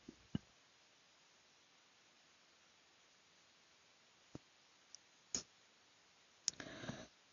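A few faint, sparse snips from scissors cutting paper butterfly antennae, heard as isolated quiet clicks with a short cluster near the end in a near-silent room.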